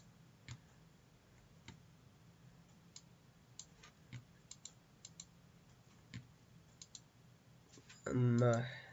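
Sparse, quiet keystrokes and clicks on a computer keyboard while code is entered for a Unity 2D drag tutorial, irregular taps spread over several seconds, followed by a louder brief tonal burst at the very end.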